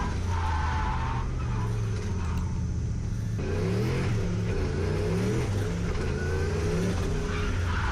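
Turbocharged 1UZ V8 Lexus LS400 drifting on a track, engine roaring loud and steady with rising and falling revs and tyre noise throughout, no voices.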